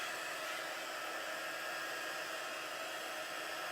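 A heat embossing tool blows hot air in a steady, close whooshing hiss like a small hair dryer, running continuously with no break in level.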